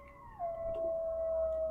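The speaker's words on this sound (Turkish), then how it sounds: "Bakın çakal sesine." A jackal howls in a single drawn-out, steady wavering note that rises in and holds, fairly faint and alone against a low background rumble.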